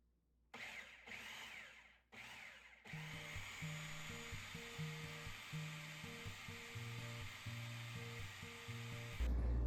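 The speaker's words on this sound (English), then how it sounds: "right over here in the food processor and give it a good blending" A food processor whirs as it blends pumpkin into puree, starting in short pulses and then settling into a continuous loud grinding hum with shifting motor tones.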